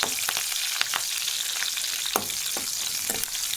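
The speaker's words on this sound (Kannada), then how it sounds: "ಹಸಿಮೆಣಸಿನ್ಕಾಯಿನ ಹಾಕ್ಕೊಂಡು ಚೆನ್ನಾಗಿ ಎಣ್ಣೆಯಲ್ಲಿ ಫ್ರೈ ಆಗಬೇಕು" Green chilies frying in oil in a clay pot for a rural-style sprouted-legume curry, giving a steady close hiss of sizzling with a few sharper crackles and pops, no voices.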